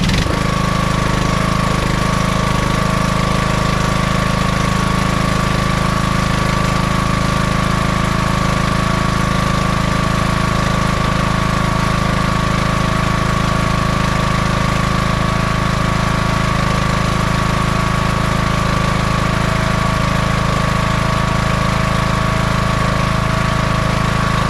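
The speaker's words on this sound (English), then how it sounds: "we're gonna fire up, let it run for a couple minutes" A Craftsman LT1000 18 HP lawn tractor engine runs at a steady idle, a continuous close, loud mechanical drone with an even rattle that holds unbroken from start to finish.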